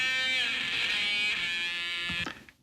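Guitar intro of a song: a bright, sustained harmonic tone held steady for about two seconds at close range, then cut off abruptly with a short decaying tail, no voices.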